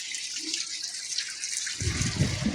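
Water is poured in a light trickling stream, growing fuller and splashier in the last second as it lands, near and moderately loud with no talk.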